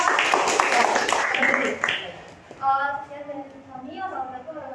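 A classroom audience claps for a student group, a dense burst of scattered hand claps mixed with voices for about two seconds before a single speaker carries on alone.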